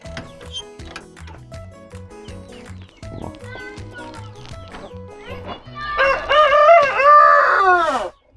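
A porcelain breed rooster crows loudly nearby, a long rising and falling call near the end, after a stretch of clucking and background farmyard noise.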